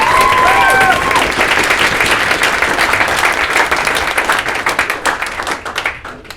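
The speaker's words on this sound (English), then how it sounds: "Big round of applause for Matt," Audience applause at a rebranding event, a loud, dense burst of many people clapping with a few cheers, gradually thinning into scattered individual claps as it fades.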